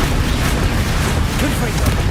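Booming spell blasts from a magic video game roll on without pause, a dense rumbling barrage of explosions loud throughout, with voices mixed in underneath.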